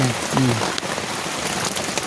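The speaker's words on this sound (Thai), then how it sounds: "บรรยากาศดีแล้วบัดนี้พี่น้องฝนตก" Steady rain falls on a surface in a dense, even hiss with scattered drop taps, and a voice murmurs briefly near the start.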